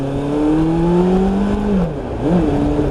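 A Suzuki GSX600F motorcycle engine pulls hard on a cold day, its pitch climbing steadily, then dropping and rising again as it shifts through the gears. Loud and close, with no voices.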